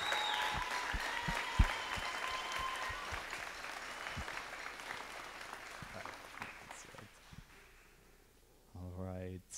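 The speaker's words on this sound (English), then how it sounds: "can we get a round of applause for these members?" Audience applause for the senior members of a high school band standing at a spring concert, a dense wash of clapping that gradually thins and fades, with a short tonal sound near the end.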